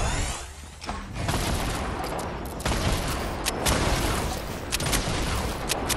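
Several players firing at once in Fortnite, a dense, continuous fusillade of overlapping gunshots with sharp cracks scattered through a loud, unbroken barrage.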